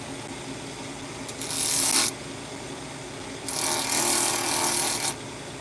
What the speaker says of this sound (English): let's just get it back on the sander. That'll be faster. So we're just going to take that little bit of excess epoxy off.